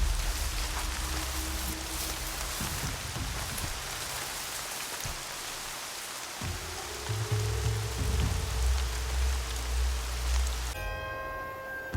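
Steady rain falls throughout in the Horizon Zero Dawn video game, a dense, even patter with low rumbling tones beneath and a brief musical chime near the end.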